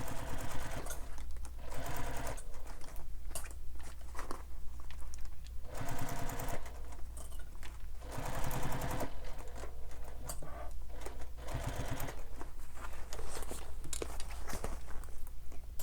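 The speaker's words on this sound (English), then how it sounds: "just sew all the way around" Sewing machine stitching all the way around a handmade bag, running in steady continuous bursts with brief pauses as the fabric is turned, close and fairly loud throughout.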